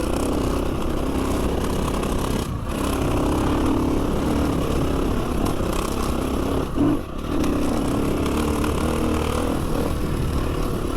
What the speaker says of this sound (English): this is the first trail I've ever ridden with panniers on a dirt bike